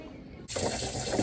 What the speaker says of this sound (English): And now to wash my hands after that sticky sandwich.